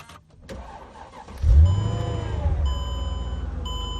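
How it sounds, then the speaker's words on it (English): A car engine cranks and catches, rising into a steady idle rumble, with a few chime-like tones sounding over it. "Listen to this engine."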